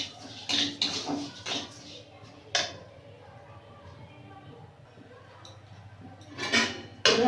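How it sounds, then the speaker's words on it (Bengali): Vermicelli is stirred and fried in a pan, with scattered clinks and scrapes of the utensil against the pan in short bursts under soft, quiet background sound. "সিমাইগুলো দিয়ে দেব, ভালো করে নাড়াচাড়া করে ভেজে নেব।"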